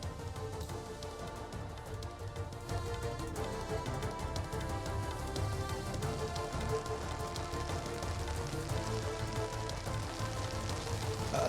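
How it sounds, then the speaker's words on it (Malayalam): Heavy rain pours steadily at the Ankola landslide site, a dense, continuous hiss of drops drumming on surfaces that stays loud throughout with no voices. "ഇപ്പോൾ മഴ ശക്തമായിട്ട് പെയ്യുന്നുണ്ടെന്നാണ് കേൾക്കുന്നത്"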